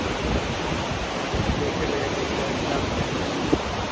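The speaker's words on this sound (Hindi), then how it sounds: "देखिए निर्मल एकदम पारदर्शी जल बहता हुआ।" Clear river water flows near Rampur Bushahr in Himachal Pradesh, a steady, loud, close rushing wash that holds even throughout, with no voices.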